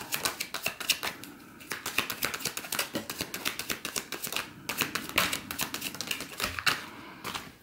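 Shamanic healing cards are shuffled close up, making a rapid, crisp run of clicking riffles in uneven bursts with brief pauses.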